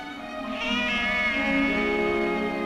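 A cat meows in a long, drawn-out, tonal cry that bends in pitch, fairly loud and close over a steady background hum, with no talking.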